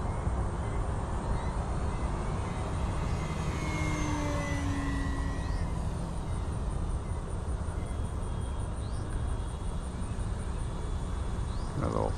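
An FMS Ranger 1800mm radio-controlled plane makes a full speed pass, a steady continuous motor drone at constant loudness that swells slightly as it goes by.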